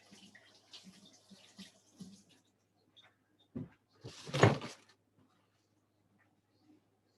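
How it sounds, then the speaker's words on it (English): Hands being washed under running water at a kitchen sink: a short gush of tap water rises and stops among quiet knocks and handling noises, faint and close. "I'm going to wash my hands real quick."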